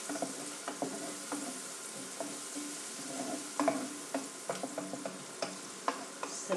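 Onions fry gently in a pan under a quiet sizzle, with scattered scraping and clicking from stirring, faint and close, no talking.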